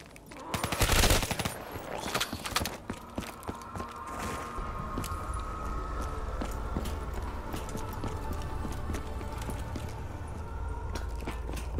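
Rapid bursts of gunfire from a newly acquired weapon in Call of Duty Black Ops III, a loud cluster of shots up front followed by scattered cracks and a steady mechanical drone, with no speech.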